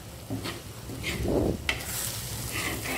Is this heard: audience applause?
no